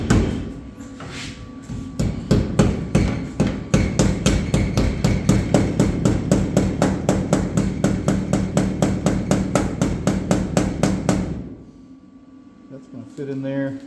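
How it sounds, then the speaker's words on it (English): Rapid, steady hammer blows strike a welded-in steel B pillar on a chopped-top Shoebox car, struck from the back side in a workshop. Dozens of loud, evenly spaced metallic impacts run for about eleven seconds, then stop. "Now I'm going to smack it from the back side"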